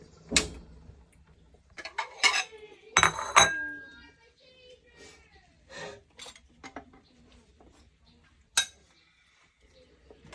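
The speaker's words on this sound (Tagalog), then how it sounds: "Sandok na tayo ng lugaw guys." A metal ladle clinks and scrapes against a cooking pot while scooping arroz caldo, a Filipino rice porridge. Scattered sharp knocks are separated by quiet gaps, with a voice talking now and then.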